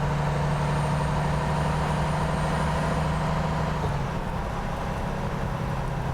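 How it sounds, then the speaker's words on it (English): A truck's air brakes engage in American Truck Simulator, a steady hissing rush over a low droning engine that shifts in pitch partway through, close and continuous with no talking. "I can hear the brakes engaging"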